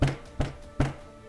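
A voice imitates a deep pounding sound with three evenly spaced, low thuds, each with a short decay.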